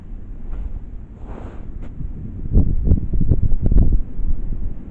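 Wind gusting on a blustery day, a low rumbling buffet that rises and falls and strengthens midway into a series of heavy, close gusts against the microphone.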